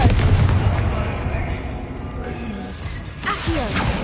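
Confringo blasting spell cast in Hogwarts Legacy, heard as loud, booming explosive blasts with whooshing crashes that stay up front, dense and continuous for several seconds.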